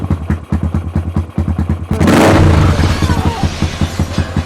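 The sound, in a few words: motorcycle engine running through loud self-welded exhaust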